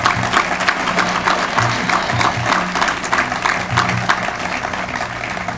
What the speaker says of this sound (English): how about some applause for the class of 2011?